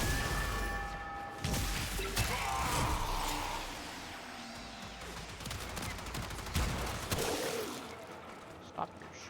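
Gunfire in the video game Warframe, bursts of rapid shots and crashes layered over a busy game soundtrack, moderately loud with scattered sharp impacts throughout.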